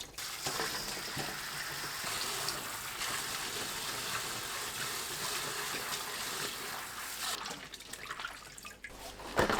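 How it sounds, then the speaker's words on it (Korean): Green chili peppers are rinsed by hand in clean water, giving a steady close wash of splashing and dripping that thins out near the end, with no one talking. "조물조물 씻고 건져낸 뒤 두세 번 깨끗한 물에 헹굽니다."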